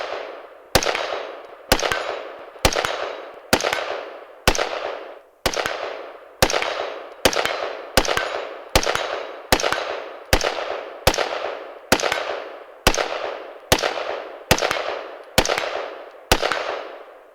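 A rifle fires Winchester 55 grain full metal jacket brass rounds from a PMag in a slow, even string of about eighteen loud, sharp cracks, each trailing into a short decay, with no talking between shots.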